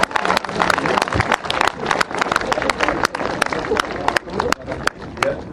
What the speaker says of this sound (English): Give him a round of applause and make him feel welcome.